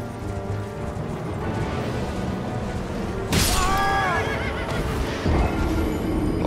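A horse neighs in Elden Ring, a whinny rising over a steady rumbling game soundscape with mechanical clatter, followed by a sharp impact near the end.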